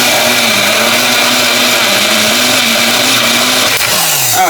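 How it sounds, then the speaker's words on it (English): A NutriBullet blender motor whirs loud and steady for several seconds, its pitch dipping near the end as the load shifts, with no talking over it. "If y'all ever looking for a good blender, get the NutriBullet baby."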